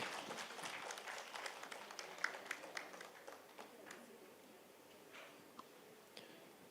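A congress audience applauds the day's speakers, the clapping soft and distant with individual claps standing out, thinning and tapering off toward the end.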